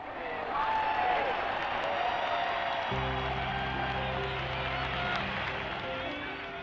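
Crowd cheering and applause outside Buckingham Palace on Coronation Day as the royal party steps onto the balcony, a dense roar of many voices and clapping, with low sustained tones entering partway through.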